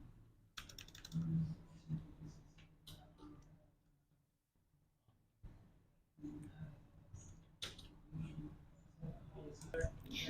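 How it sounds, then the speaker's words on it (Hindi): Someone typing a letter on a computer keyboard: quick irregular clicks in bursts, close and fairly quiet, separated by pauses with a person speaking softly between them. "तो यहाँ पे आप लेटर टाइप कर सकते हैं।"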